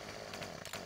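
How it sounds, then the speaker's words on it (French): A big chainsaw in the Farming Simulator 15 game cuts small tree branches, a steady loud engine whine running throughout with slight wavers in pitch as it bites into the wood. "on sort notre grosse tronçonneuse les amis"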